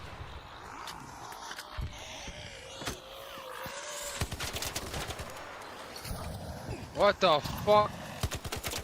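Gunfire in the Warzone shooter game, bursts of shots crackling amid game ambience, with a sharp louder volley near the end while a player talks over it.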